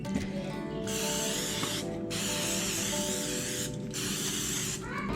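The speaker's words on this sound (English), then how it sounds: "Next step is coat the baking sheet with cookie spray, and Dave says that's one more ingredient." Cooking spray hisses steadily from an aerosol can onto a baking sheet in a home kitchen, sounding in three long close bursts separated by short pauses, with no talking.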